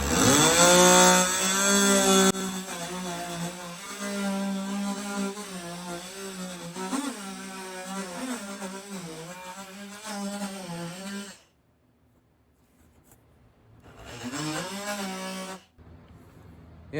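Sandpaper rubbed back and forth by hand in the door gap of a C3 Corvette, scuffing the paint, a steady close rasping scrape that runs for several seconds, breaks off briefly, then resumes in a shorter burst.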